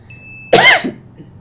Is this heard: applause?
no